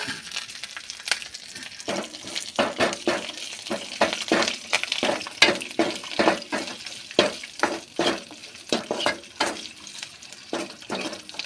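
Curry leaves fry in hot oil, with ginger, tamarind and garlic added for a snake gourd seed thuvaiyal, giving a steady crackling sizzle broken by repeated sharp spattering pops and stirring scrapes throughout.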